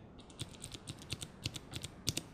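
Clicky blue mechanical keyboard switches (Cherry MX Blue) are pressed in an irregular series of sharp, crisp clicks, quiet and close, with no voices.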